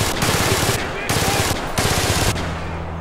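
Machine gun fire in the War Mongrels tactical war game, loud sustained bursts of rapid rattling shots broken by brief pauses, ending in a lower rumble.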